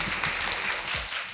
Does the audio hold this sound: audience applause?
yes